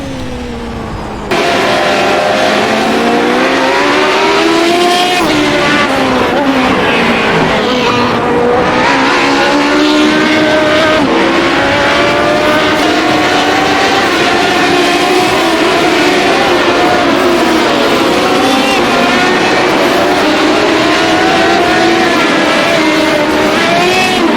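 Radical SR8 race car in iRacing at Oran Park, its engine droning loud and steady for about 23 seconds after a brief quiet opening, pitch rising and falling through gear changes with occasional tyre noise.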